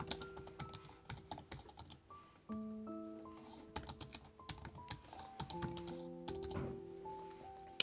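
Fingers typing on a computer keyboard while entering a website heading, a steady run of quick close clicks and taps over soft background music.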